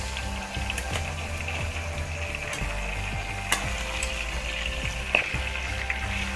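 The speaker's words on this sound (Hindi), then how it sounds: "अब हम इसको अच्छे से भून लेंगे चिकन को।" Chicken for Muradabadi biryani fries in a pot, giving a steady, close sizzle under a constant low hum, with a few louder spoon scrapes and clanks as it is stirred.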